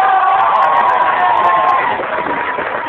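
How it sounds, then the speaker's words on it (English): Studio audience of a TV quiz show cheering and applauding as a schoolboy contestant is introduced, a loud, dense crowd roar with whoops that holds steady, then eases slightly toward the end. "A big round of applause,"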